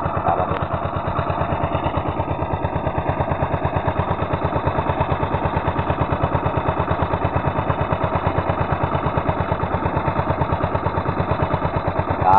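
A not-yet-fully-repaired engine runs continuously with a fast, even, pounding beat, loud and close, holding steady for the whole stretch with no one talking.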